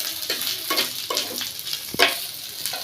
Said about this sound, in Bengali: এখন দিয়ে দিব আমি এখানে একটু জিরা, ভেজে নেব